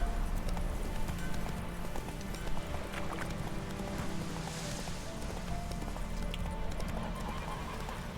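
Roach, a horse in The Witcher 3 video game, gallops with steady rhythmic clip-clop hoofbeats over a busy game soundscape, with a brief whinny and faint voices in the mix.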